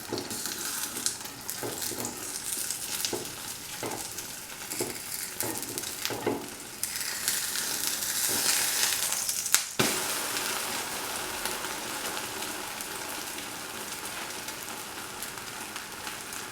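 A curry leaf omelette fries in a pan with a steady broadband sizzle throughout, broken early on by a few soft stirring or scraping knocks and a brief louder crackle midway; no one speaks.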